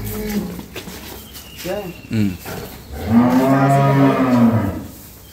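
On a farm, a Holstein Friesian dairy cow with a heifer calf gives a long, loud moo close by, after shorter lowing calls and a voice talking beneath.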